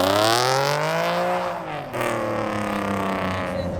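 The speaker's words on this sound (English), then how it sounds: "That's the type of exhaust I'm talking about. It sounds decent." A car exhaust revving hard at a car meet, a loud, close, sustained engine roar whose pitch sweeps up and down across two rising revs, with no talk over it.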